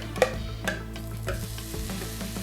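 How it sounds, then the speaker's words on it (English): Herbs and spinach frying in a hot pan, a steady sizzle with repeated scraping stirs and a few sharp clinks. "again, you hear that sizzle,"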